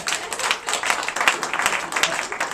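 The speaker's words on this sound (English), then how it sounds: "Give him a round of applause for snorting." An audience at a hypnosis show claps in uneven bursts, a close, lively patter of hands that swells and dips without settling into a steady rhythm.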